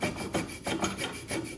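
A hand saw rasps through a carved wooden duck decoy head, a gadwall drake, in a steady run of close, rhythmic back-and-forth strokes with brief pauses between them.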